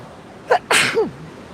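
A single sharp sneeze, close and loud, with a quick inhale just before the burst.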